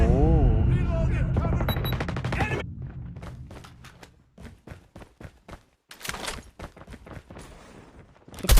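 Call of Duty Mobile gunfire: loud, dense automatic bursts dominate the first few seconds, then sparser single shots and short volleys follow at a distance, with quieter gaps and game effects between them.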